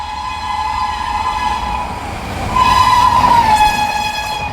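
The Jodhpur Hadapsar Express rumbles past close by while overtaking, with a loud steady roar of wagons and a long horn blast sounding over it toward the end.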